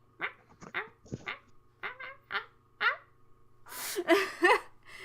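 A voice imitates a cat's chirping with a quick series of short, bright chirps, ending in a louder burst that sounds like laughter.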